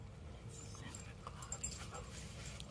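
A dog pants and softly whimpers close by during an early-morning walk at an RV resort, quiet rapid breaths under faint background noise, with a person speaking briefly.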